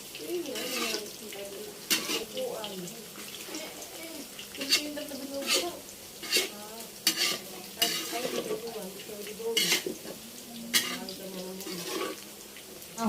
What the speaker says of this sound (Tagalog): Akin muna po ipiprito itong ating squid ball.